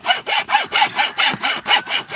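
A hand saw rasps back and forth through wood in quick, even strokes, about nine close, loud pulls in a steady rhythm.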